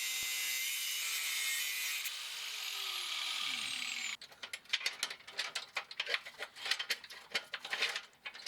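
A power cutting tool spins down with a falling whine, then rasps and grinds in rough bursts while cutting off rear exhaust clamps on a BMW E46 M3, close and fairly quiet.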